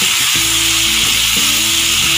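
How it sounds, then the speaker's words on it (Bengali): Fried potatoes are stir-fried in a spice paste and sizzle loudly and steadily in hot oil, with a constant hiss and a few dull scraping stirs underneath. "এখন আমি এই ভাজা আলুগুলো দিয়ে আরও একটু মশলার সঙ্গে আলুগুলো কষে"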